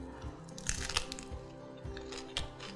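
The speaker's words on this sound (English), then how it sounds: "I'm gonna go in for a bite now because it's so crunchy and delicious." Crunchy bites into a crisp folded dish, several sharp close crackles with soft chewing in between, no talking.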